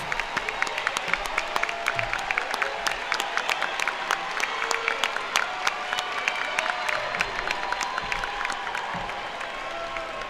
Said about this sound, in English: please join me in applauding these individuals